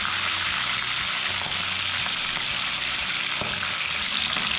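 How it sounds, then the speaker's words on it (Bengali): Salt-and-turmeric-rubbed hilsa fish frying in hot oil in a pan, a dense, continuous loud sizzle and hiss with no talking. "এই তেলেই মাছগুলো ভেজে নেব।"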